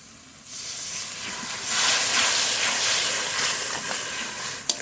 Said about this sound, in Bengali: টমেটো কুচি এবার একটু জল দিয়ে মশলা খুব ভালো করে কষিয়ে নেব